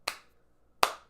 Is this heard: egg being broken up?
no